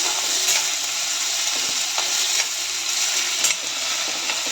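Washed potato slices sizzle steadily in a pan while being stirred, with a few scraping clicks of the spoon close by.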